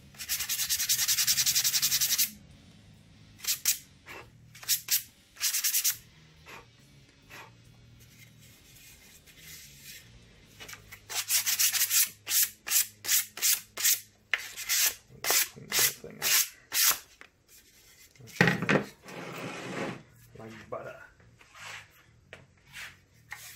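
Hand sanding of rough hole edges in an MDF router base plate: bursts of scratchy rubbing, first a few longer passes, then quick rhythmic back-and-forth strokes, close and fairly loud with pauses between.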